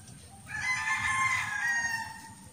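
A rooster crows once in a long, drawn-out call at middle distance, rising and then trailing off, over a low rural background murmur.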